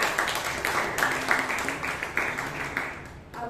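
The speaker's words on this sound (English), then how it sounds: "Let's give him a huge round of applause" Audience at a Toastmasters meeting in Bangalore clapping together, a dense steady round of applause close by with a few voices mixed in.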